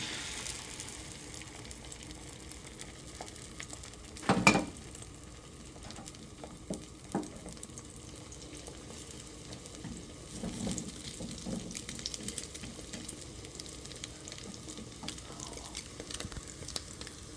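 Beaten egg sizzles and fries in a pan with a little olive oil, stirred now and then. The crackle is soft and steady, with a few brief louder scrapes and pops.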